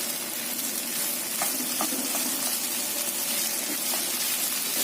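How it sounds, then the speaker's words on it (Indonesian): Fried rice with spring onions stirred in a pan after the heat is turned off: continuous loud sizzling with a few scraping clicks from the stirring, no voices. "Kita aduk sampai rata ya daun bawangnya"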